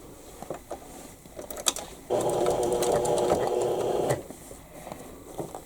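Sewing machine stitching a cathedral window quilt block, running in one steady, loud two-second burst, with soft handling clicks and fabric shuffling before and after.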